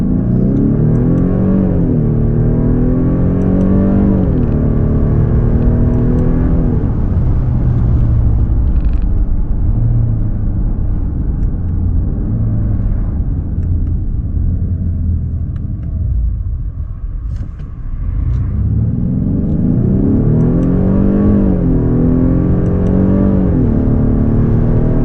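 A Genesis G80 2.5T AWD luxury sedan accelerates hard in sport mode, its turbocharged engine rising in pitch through repeated gear changes with a steady loud rumble, easing off midway before climbing again, heard from inside the cabin with no talking.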